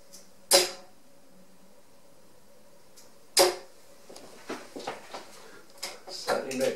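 A dart strikes a dartboard with a sharp twang, two loud isolated hits a few seconds apart, followed by quieter clatter and handling noises.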